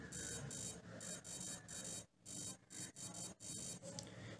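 Electronic beeping tones from the small speaker of a DIY Arduino touch piano, sounding in repeated bursts with short gaps as keys are tapped; faint and thin, with no voices.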